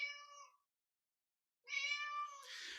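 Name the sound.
cat meowing twice, sound effect signalling slide change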